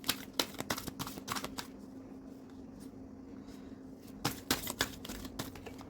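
Tarot cards are shuffled and drawn by hand, with quick bursts of riffling and snapping in two clusters around a quieter gap, close and fairly soft over a faint steady hum.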